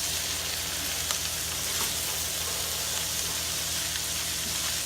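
Shredded cabbage frying over high heat in bacon fat, giving a steady, close, even sizzle and hiss with faint crackles and no voices.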